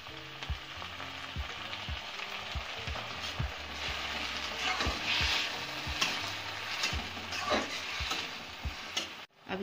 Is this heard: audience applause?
no